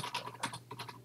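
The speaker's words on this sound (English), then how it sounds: "And then just type that." Quick, light clicks of fingers typing on a computer keyboard, close and fairly quiet, coming in an uneven run of taps with short gaps between them and no talking.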